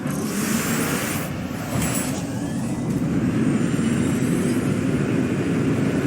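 A starship lifting off in No Man's Sky gives a steady, loud engine roar and rushing hiss that swells slightly toward the end, with no voice.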